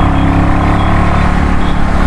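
A Royal Enfield Meteor 350 motorcycle pulling hard in third gear around 60 km/h on an open road, a loud, steady engine drone mixed with heavy wind rush, continuous throughout with no voice over it.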